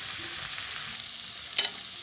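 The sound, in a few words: onions and garlic frying in pan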